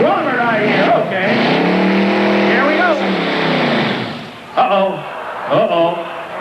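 A competition truck in a 1985 Meadville, Pennsylvania truck pull roars and revs hard, its rising and falling engine note loud and close while an announcer talks over it.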